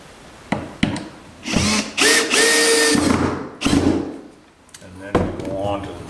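A power drill drives screws into a wooden skiff in short whirring bursts that rise and stop, mixed with knocks and handling noise of the wood.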